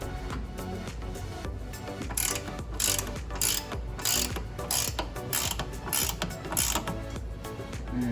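Ratchet clicking in repeated bursts while speed nuts go back onto the control arm of a Ford Mustang GT500 during a ball joint replacement, close and fairly loud over a steady mechanical background.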